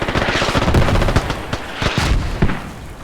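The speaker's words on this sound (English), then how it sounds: "Houndshead taking some shots towards the mortars" Repeated gunfire in a Squad match on the Narva map, with sharp rapid shots in bursts and a few heavier cracks over a constant battlefield din, close and loud, no voices.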